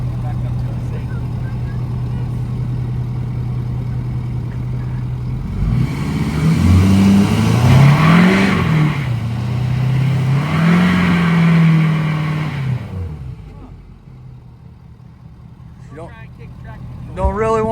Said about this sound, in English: By doing a burnout. Of course, that's how we're testing it.